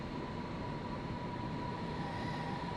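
An NYCT R160 subway train in the OpenBVE simulator game produces a steady rumbling drone with a constant tonal whine. The sound holds at an even level throughout, with no talk.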